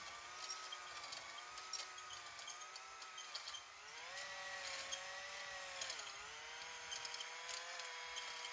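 A cylinder hone spins inside the oiled bore of a Polaris 800 RMK Pro Axys snowmobile engine, giving a steady, fairly quiet whirring drone whose pitch dips and rises slightly.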